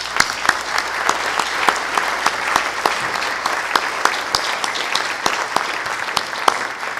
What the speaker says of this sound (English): A round of applause for all these candidates.